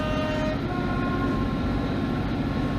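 Heard from inside a Class 150 diesel train, a short horn tone sounds at the start as the train passes a waiting Drax biomass train, followed by a steady, loud rolling rumble of the carriage.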